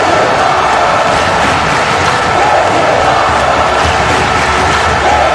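A wrestling crowd at a main event show in Washington, D.C. roars and cheers continuously at a fever pitch, a dense, loud wash of voices with no letup.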